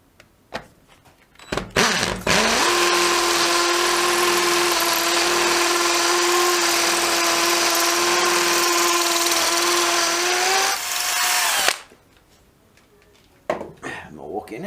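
A Dewalt DCD776 cordless drill spins up and runs steadily at full speed for about nine seconds, loud and close, then stops, with brief talk and handling noise before and after.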